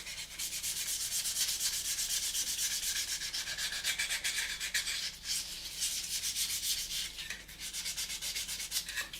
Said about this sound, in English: we're just going to pop through with the sanding sponges